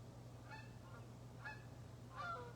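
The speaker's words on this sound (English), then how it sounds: "That's a Canadian goose there." A Canada goose honks three times at a distance, faint calls spaced about a second apart over a low steady hum of background noise.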